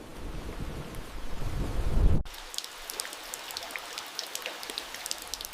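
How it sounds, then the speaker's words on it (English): Heavy rain pours in a loud, dense wash for about two seconds, then gives way to a quieter patter of scattered drops with faint ticks, with no voices present. "Suddenly, raindrops began to fall heavily."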